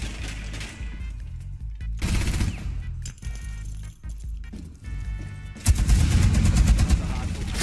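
Bursts of turret machine gun fire ring out in the Rainbow Six Siege video game, loud, rapid volleys broken by short gaps, with a heavier stretch of firing at the end and faint talk in between.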